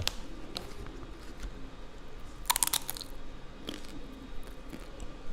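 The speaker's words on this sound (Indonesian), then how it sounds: "walaupun bukan dari keripik singkong, tapi keripik talas, keripiknya tuh renyah, nggak berminyak" Crunchy taro chips being bitten and chewed during a tasting, with a few distinct crisp crunches standing out against a low steady background hum, close and fairly quiet.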